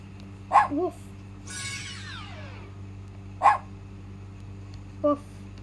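Three short, sharp dog barks from an electronic sound memory game, spaced a few seconds apart, close by, with a quieter sweeping electronic tone between them.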